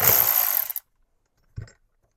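A power tool whirs briefly at close range while a bracket bolt is backed out with a 10 mm tool on an Audi A3 TDI, then stops, followed after a pause by a single soft clunk.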